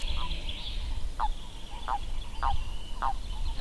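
Frogs croak at a pond in spring, a series of short rasping calls repeating at irregular intervals over a steady background of hissing and low murmur.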